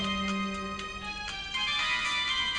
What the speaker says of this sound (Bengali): এই বেটা তো ফোন বাজে, ফোন ধরস না কেন?